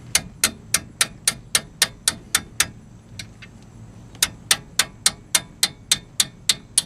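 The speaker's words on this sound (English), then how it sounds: "Just hit the Allen key with your hammer and you should be alright." Sharp metallic taps of a hammer striking an Allen key to drive out a disc brake guide bolt on a Mercury Mystique or Ford Contour, in a steady quick rhythm, pausing briefly, then resuming at the same pace.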